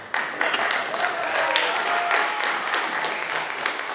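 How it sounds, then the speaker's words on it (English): Scattered audience applause for a prize winner at a school international carnival, steady moderate clapping from a crowd in a large room, continuing without a break. "Applause, applause."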